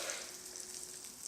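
Butter frying in a hot waffle maker, a steady close hiss and crackle of sizzling fat, with no voices.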